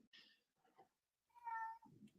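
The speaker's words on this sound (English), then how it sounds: "Oh my God, my stupid cat! Shut up." A house cat meows indoors, a short chirp followed by a longer, drawn-out meow, close and fairly clear against a quiet room.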